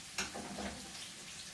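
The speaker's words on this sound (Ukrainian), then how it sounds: "Цибулька, дивіться підсмажилася, пом'якла, де-не-де почала золотитися." Onion and sausage trimmings fry in a pan with a faint, steady sizzle and crackle that lasts throughout, with no talking.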